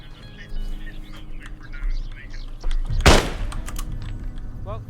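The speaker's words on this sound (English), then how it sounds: "Gunshot from the southeast of town." A single sharp, loud gunshot cracks midway through, standing out over quieter background chatter and clicks.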